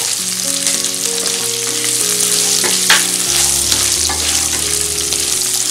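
Green chillies and raisins fry in hot oil for poha chivda, a loud, dense, continuous sizzle with stirring clatter and a few sharp knocks from the utensil.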